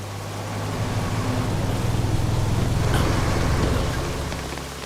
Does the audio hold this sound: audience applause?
no